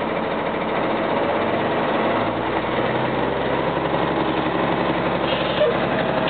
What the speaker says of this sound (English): you hold the switch until the engine idle increases on its own